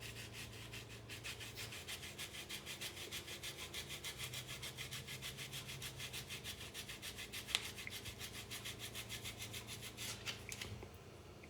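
A metal ring being smoothed with a sanding block before it is stretched to size 14: a steady, rapid back-and-forth rasping scrape that runs evenly and close up, with one sharp tick partway through.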